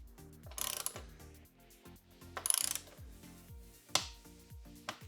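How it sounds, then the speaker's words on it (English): Ratcheting torque wrench tightening the exhaust pipe clamp on a BMW R1300 GS fitted with an Akrapovic titanium full system, heard as a few short bursts of rapid ratchet clicks with a sharp click between them, close up and with no talk. "Then we'll do the torque on the pipe clamp, again 22 Newton meters."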